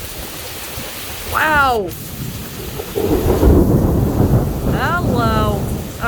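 Heavy thunderstorm rain pours steadily in a broad wash, with a loud rumbling swell of thunder building partway through; someone talks briefly over it near the start and again toward the end.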